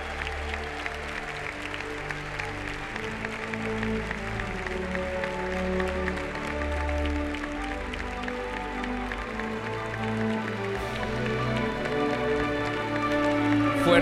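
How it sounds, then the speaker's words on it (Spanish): Sustained, dense applause from an awards ceremony audience giving a Spanish singer a standing ovation, a steady roar of clapping that swells slightly toward the end. "el público se pone de pie. Le hace una ovación a este gran cantante español"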